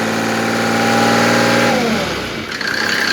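A Mercedes OM603 3.0-litre diesel driving a PN-40 irrigation pump revs hard, holding a loud, rough high note before dropping back toward idle near the end, with no voices.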